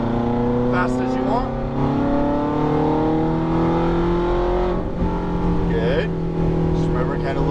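A Ferrari F430 F1 on a track revs hard under acceleration back to full power, its engine note rising steadily and loud throughout, with a voice talking over it.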